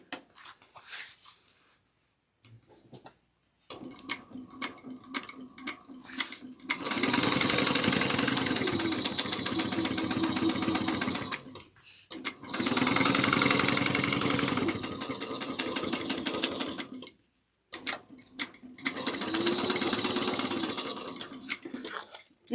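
A sewing machine top stitches and under stitches a bag, running in three long bursts separated by short pauses, with lighter handling sounds and a few brief starts before the first run.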